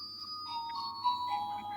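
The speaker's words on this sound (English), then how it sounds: "That's the alarm of my apartment building." An apartment building alarm buzzer sounds as a steady, shrill electronic tone that wavers slightly in pitch and continues throughout at moderate volume.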